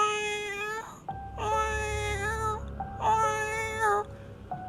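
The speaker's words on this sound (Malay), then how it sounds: "terdengar bunyi macam kucing mengiau" A cat outside a fifth-floor window meows in three long, wailing, drawn-out cries with short pauses between them, clear and fairly close, with no talking.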